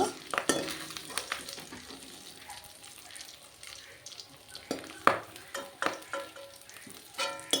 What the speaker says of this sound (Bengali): দিচ্ছি একটু নুন এখন ভালো করে ভেজে নেব